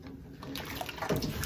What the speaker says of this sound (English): We're gonna dip it in the water